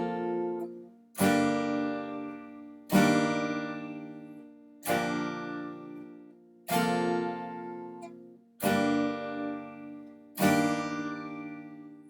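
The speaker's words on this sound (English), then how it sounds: "a down strum every 2 beats" Acoustic guitar chords struck with single down strums, six evenly spaced hits each left to ring out and fade before the next.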